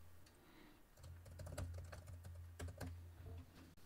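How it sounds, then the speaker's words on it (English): Soft, quick keystrokes on a computer keyboard enter text in a video editing program, a quiet irregular patter of clicks with a faint low hum underneath. "we'll go in here and type in a text"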